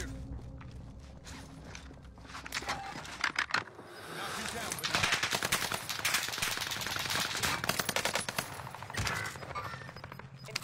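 Rapid bursts of gunfire and scattered shots ring out during a Fortune's Keep match in a battle-royale shooter, with footsteps between volleys and a voice talking over the action.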